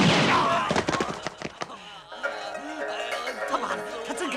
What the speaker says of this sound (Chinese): 他真开枪啊